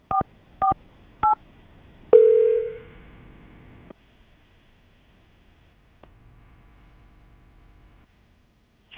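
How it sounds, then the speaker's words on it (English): Three short telephone keypad dialing tones, evenly spaced, followed by a louder longer tone that fades, then near silence with a faint low hum; no talking. "Aaron, we're going to call her right now, see if we can get her on the phone"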